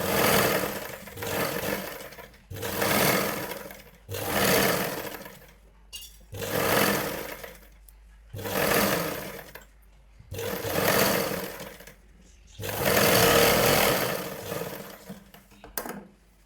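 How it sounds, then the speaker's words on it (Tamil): Several bursts of a sewing machine topstitching around a blouse neckline, each run lasting a second or two with short pauses between, steady and close. "இந்த மாதிரி ஒரு படிமான தையல் கொடுத்துக்கோங்க."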